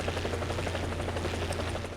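Helicopter rotor in the War Thunder video game, a steady rapid chopping thump with a low engine drone, continuous and even throughout, no talking.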